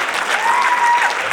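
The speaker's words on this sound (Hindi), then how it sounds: "सबके लिए जोरदार तालियां।" Audience applause fills a training session held at Jim Corbett, a brief, loud, steady burst of clapping from a seated crowd with no talk over it.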